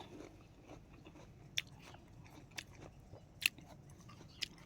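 A firm, crunchy unripe pear is bitten and chewed nearby: a few sharp, crisp bites stand out over quieter, steady chewing and a low background hum.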